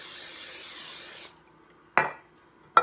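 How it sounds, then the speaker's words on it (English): A hissing aerosol spray lasts just over a second, followed by two short clinks of metal cookware. "I'm just going to give this a little spray"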